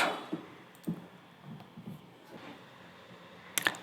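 Computer mouse clicks, a few sparse soft taps spaced irregularly, ending in a quick sharper pair of clicks, fairly quiet against a low background.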